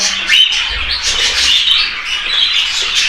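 Cockatiels, also called sultan parrots, kept indoors squawk and chatter in a dense, continuous run of shrill calls, loud and close, with no pauses across the stretch.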